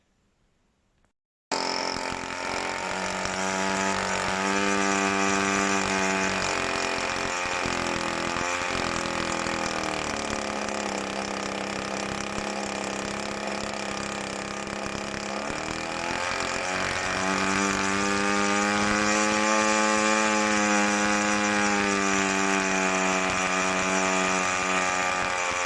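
A DLE 20 petrol engine for a model aircraft runs steadily on a test stand, starting abruptly after a brief quiet moment and holding a loud, buzzing drone with shifts in throttle pitch throughout, no voices.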